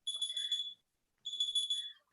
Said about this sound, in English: That's my 7 o'clock alarm.